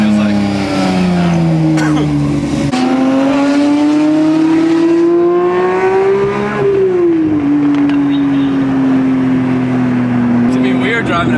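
A manual Porsche 992 GT3 roars loudly on a race track, its engine pitch climbing through gears with a sharp shift and steady high revs, heard from inside the car with a voice talking over it.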